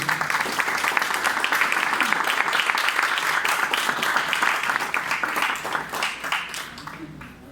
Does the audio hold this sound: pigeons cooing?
no